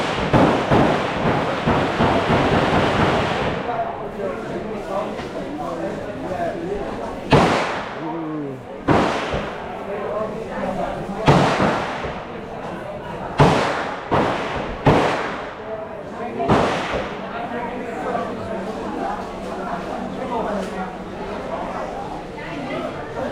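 M60 machine gun firing at the Cu Chi Tunnels range, heavy booming shots spaced irregularly, echoing over continuous crowd chatter and talk.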